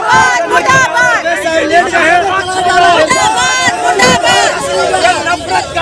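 A dense crowd at a street protest at Shaheen Bagh raises many overlapping voices, loud and close, in a busy babble with rhythmic shouting and chanting bursts throughout.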